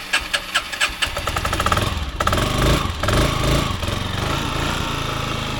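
A cold-blooded, hard-starting 1983 Yamaha Riva 180 scooter cranks with rapid starter pulses for about a second, then catches and settles into a steady, close, buzzing idle that runs on loudly without talk.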